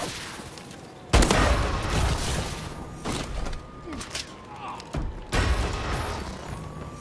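Gunfire in Call of Duty: Advanced Warfare free-for-all multiplayer: several sharp gunshot bursts crack out over a busy game soundscape, with a player's voice speaking now and then.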